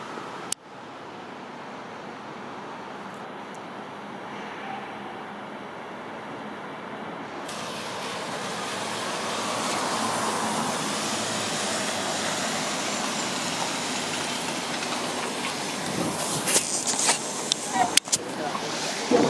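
A city bus approaches and pulls up at a street stop, its engine rumble swelling and holding steady with hissing and a few sharp clicks and knocks toward the end; a voice speaks nearby.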